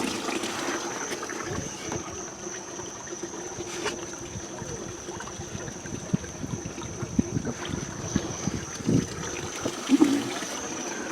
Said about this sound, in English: let me put some water into the boys' bowl